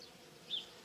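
Bees buzz faintly among the branches of a blossoming tree in spring, a soft, steady hum that swells briefly, heard from a short distance with no talking.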